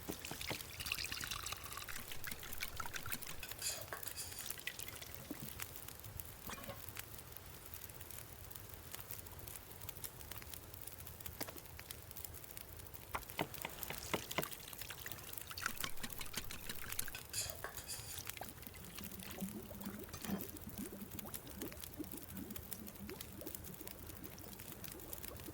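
Porridge cooking over a fire in the video game The Long Dark, water simmering and trickling with a soft crackle; a faint, continuous liquid bubbling and pouring texture throughout, no voices.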